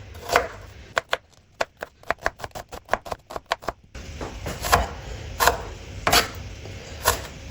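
A knife chops peeled onions on a board, a quick run of sharp evenly spaced cuts, then a few slower, heavier chops over low background noise, close and clear.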